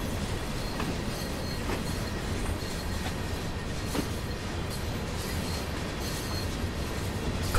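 Train shunting at a steelworks on the Tees Valley Line in the game Train Sim World 2, with a continuous rumble of wagons rolling and faint wheel clicks and squeals, steady and fairly close, without talk.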